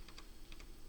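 Backslash typed with shift on a computer keyboard gives a few faint, close key taps in a quick pair-and-pair rhythm, alone without speech.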